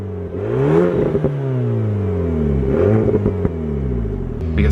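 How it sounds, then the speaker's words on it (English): A car's active exhaust revs repeatedly with its valve opening and closing, rising and falling engine sweeps broken by sharp pops and crackles, heard loud and close from inside the cabin. "We get some nice pops and crackles out the back of that exhaust."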